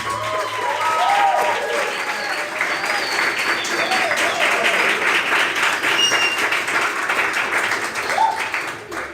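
An audience at a Sunday church family service claps together in dense, continuous applause, with voices and a few cheers rising through it before it tapers at the end.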